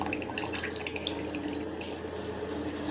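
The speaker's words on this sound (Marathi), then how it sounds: "आता हे बटर भिजले, त्यातलं पाणी काढून घेते मी" Soaking water drains and drips off bakery rusks in a kitchen, a close, continuous trickle with small splashes and faint clinks, and no talk.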